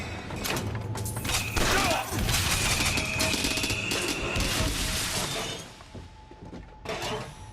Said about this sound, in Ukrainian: А тут швидкість пальби значно швидше. Це як автомат майже.